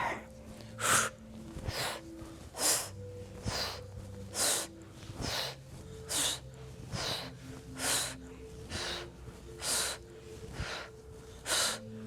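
Rapid, forceful fire-breathing exercise: about fourteen sharp, loud breaths pushed out through the nose at a steady pace of roughly one per second, close to the microphone with no talking.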